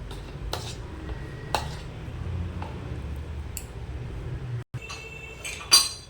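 A spoon works through prawn pakora batter in a bowl, with soft squelching under scattered sharp clinks of metal against the bowl's side, close and intermittent.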